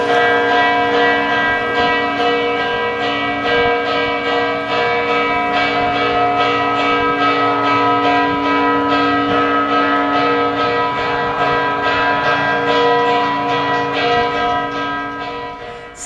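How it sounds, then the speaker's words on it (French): A church bell tolls the tocsin alarm loudly and insistently, its strikes ringing in rapid, unbroken succession with rich overlapping resonance for the whole stretch. "C'est un appel de cloche lancinant, effroyable"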